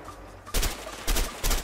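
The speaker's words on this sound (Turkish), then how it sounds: "Ben vurulmuyorum ben adamları vuruyorum." Gunfire in the video game A Way Out crackles in three sharp bursts, each a short rapid volley, loud and close within under two seconds.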